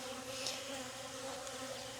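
Honeybees drone in a dense, continuous buzz from an opened hive with drawn comb, heard close up and fairly soft, with no voices over it.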